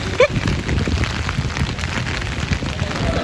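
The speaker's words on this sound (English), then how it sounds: "It is still raining." Steady rain falls on a Tokyo street in Shinjuku at night, a continuous even hiss with scattered droplet patter and low city rumble underneath.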